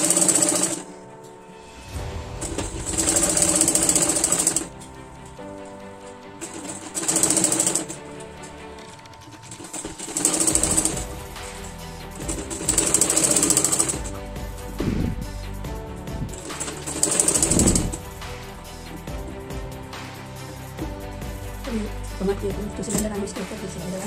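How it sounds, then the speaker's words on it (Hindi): A sewing machine stitches a blouse back neck in repeated bursts of rapid mechanical clatter, each lasting a couple of seconds and separated by short pauses, close and moderately loud. "सिलाई ऊपर से भी लगाएंगे।"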